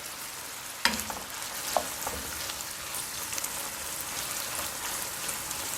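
Prawns sizzle steadily in a hot pan, with a couple of sharp clinks and scrapes as they are stirred near the start.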